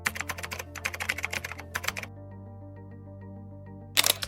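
Rapid close clicking of computer keyboard keys in three quick bursts, a pause with a low steady hum, then one brief final flurry of taps.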